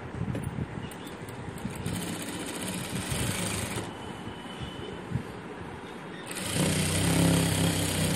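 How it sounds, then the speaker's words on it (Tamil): An electric sewing machine stitches a box pleat on a school uniform skirt, running steadily with a hum and rapid needle chatter, pausing briefly and then speeding up louder near the end. "இதை ஸ்டிச் பண்ண போறோம்."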